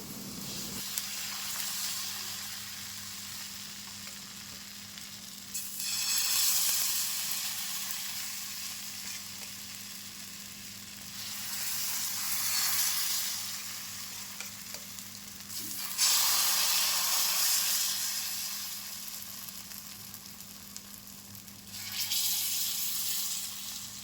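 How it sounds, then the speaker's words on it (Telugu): Instant rice-flour dosas sizzle on a hot pan, loud bursts of frying hiss swelling and fading in four waves as batter hits the pan, with a steady low hum underneath and no talk. "yummy yummy and tasty tasty and crunchy crunchy instant దోశలు అయితే వేసుకుందాం"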